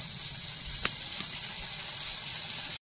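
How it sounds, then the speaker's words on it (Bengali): Water is poured into a simmering Bengali curry of kan fish, giving a steady, continuous gushing hiss for a few seconds before stopping abruptly. "কষানো হয়ে গেছে, এবার জল দিয়ে দেবো।"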